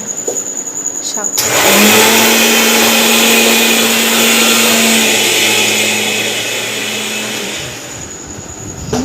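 A kitchen mixer grinder churns soaked rice in a loud, steady motor whine that kicks in after a quiet moment, runs for several seconds, then winds down.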